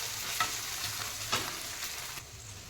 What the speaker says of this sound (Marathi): व्यवस्थित लसूण भाजून घेऊ